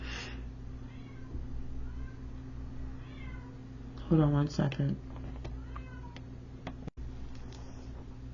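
A house cat lets out a few meows, with a louder, drawn-out cry in the middle, while a person speaks briefly nearby in a quiet indoor room.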